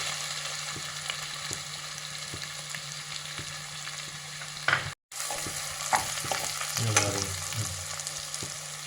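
Two onions sautéing with crushed ginger in a pan for a mutton head curry, a constant close sizzle with regular clicks of a spoon stirring, a momentary dropout midway, then busier scraping toward the end.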